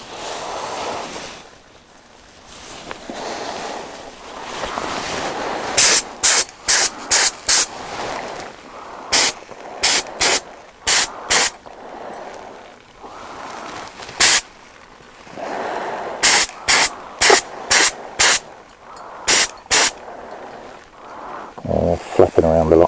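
A spray gun lays a base colour coat on a Yamaha Fazer 600 motorcycle in repeated short, sharp bursts of hissing spray, loud and close, between stretches of softer hiss and handling noise.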